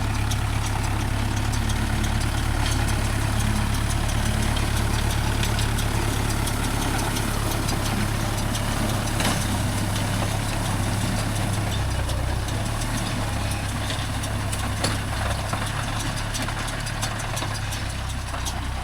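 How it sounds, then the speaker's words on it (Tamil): A Kubota MU4501 tractor engine idles and runs steadily in farmland, a constant low droning rumble with a vibrating hum, close and loud throughout with no talk. "பாரு வாக்கியக்காரில் எப்படி வண்டி ஆடி ஆடி வருது பாரு, ஃப்ரீயாவாக வருது."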